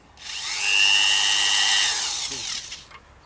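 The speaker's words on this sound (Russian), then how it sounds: "Посмотрим, что-то придется, наверное, сверлить." A power drill whines steadily as it bores into material while plant fencing is being built, rising to a loud sustained pitch for about a second and a half, then easing off with a few small clicks and knocks at the end.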